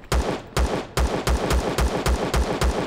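Repeated gunfire in the video game Empyrion Galactic Survival, loud evenly spaced shots about two or three per second, each with a heavy low thump, with no talk over them.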